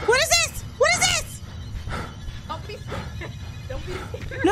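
Inside a Backrooms horror video game, a dog makes whining, yelping and growling sounds near the listener, rising and falling in short bursts while people talk over it.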